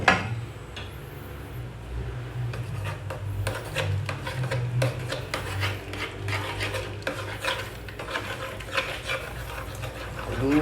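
Shrimp stirred in a tomato, beer and garlic butter sauce, with steady scraping and rubbing strokes of a utensil against the pan over a low simmering sizzle, close and continuous with no talk.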